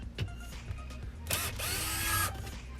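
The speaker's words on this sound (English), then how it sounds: "I'm going to be using a drill to speed the process" A power drill removing screws on a 2007–2012 Mazda CX-7 during fuel pump replacement whirs in one sustained high burst after a few faint clicks and knocks, close up and fairly loud.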